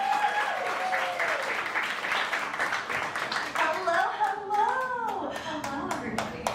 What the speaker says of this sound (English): Let's start some claps and put Lexi up on the stage.